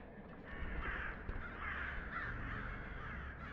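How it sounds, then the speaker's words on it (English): Crows caw inside a spooky video game, with several rough, hoarse calls overlapping at moderate distance over a low ambient rumble and no talk. "Were those birds?"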